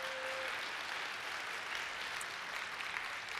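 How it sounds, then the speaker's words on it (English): Audience at a conference opening keynote applauds as someone walks up to the stage, a steady, moderately faint wash of clapping throughout. "Give her a round of applause as she walks up."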